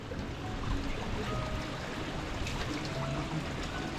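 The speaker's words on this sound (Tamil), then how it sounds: "சின்ன ஒரு குட்டி அருவி ஓடிக்கிட்டு இருக்குது" A small waterfall of herbal water on the Marunthuvazh Malai mountain trek flows with a steady, close rushing and splashing that stays even and unbroken throughout.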